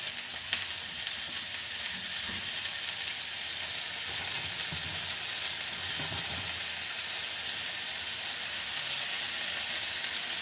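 Frozen green onion sizzles on a hot tawa griddle, a steady bright frying hiss with soft crackles and faint stirring movements throughout, no voices.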